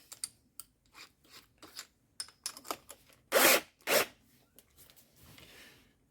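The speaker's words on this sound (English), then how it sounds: "So I'm just going to run the drill" Short bursts of a power drill spinning briefly while deburring a drilled hole's front face, with two louder whirring runs mid-clip and light scraping between them, close up.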